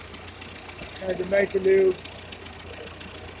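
A Ferguson TO-35 tractor engine with a newly replaced carburetor and an exhaust leak runs at a steady, rough idle, a low continuous rumble heard close by beneath a man's speech.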